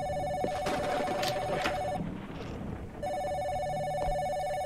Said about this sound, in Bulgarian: Is that my landline?